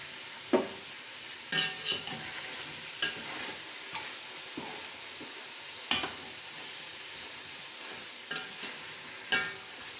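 Chicken frying in a pan until golden for a chicken pulao, with intermittent stirring scrapes and clatters over a steady sizzle, close and moderately loud.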